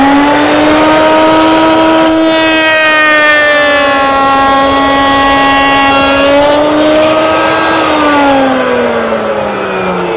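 Router with a newly switched bit running a sample cut in wood on a router table, a loud sustained whining tone that rises and falls in pitch as the cut proceeds, alone and close.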